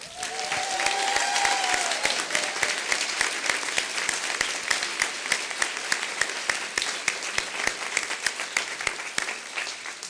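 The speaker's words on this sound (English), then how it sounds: "please join me in giving Dean Laura Ario a round of applause and appreciation" Sustained audience applause at a university recognition ceremony for the bachelor's program for adults and transfer students, dense steady clapping filling the room for about ten seconds, with a brief faint voice near the start.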